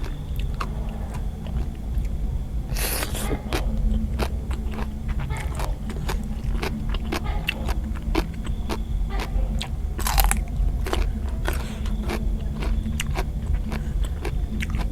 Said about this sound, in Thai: แลดิดกรอบกรอบ รสชาติคล้าย ๆ หัวไชเท้าแต่ว่าอ่อนกว่า